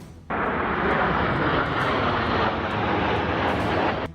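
Italian Air Force jets flying in formation at an air display, a steady loud roar of engines that rises abruptly and holds without pause, with no voices over it.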